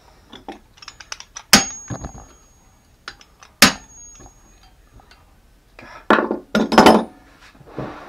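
Hammer blows strike chisels driven against a stuck water pump part during a repair, with sharp metallic cracks at irregular intervals, a few louder ringing hits, and lighter taps between them.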